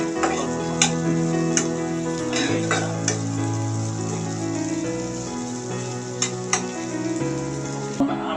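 Onions browning in a hot pan with a pinch of cumin, stirred steadily: a continuous close sizzle with sharp spoon-against-pan clicks and scrapes every second or so.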